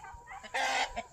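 Mixed-breed chickens cluck, a short burst of close, fairly loud hen clucks with no talk.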